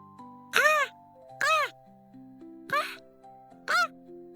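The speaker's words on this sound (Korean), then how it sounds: "그날따라 느티나무 위의 까치가 평소보다 훨씬 더 힘차고 즐겁게 울었습니다." A magpie in a zelkova tree gives four short, bright, arching calls at even intervals over soft, sustained background tones.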